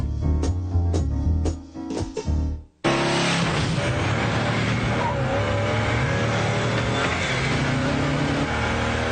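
A car speeds up to 50 and then brakes hard. A short burst of engine and rhythmic thumping cuts off abruptly, then a loud, dense wash of engine and road noise runs steadily to the end.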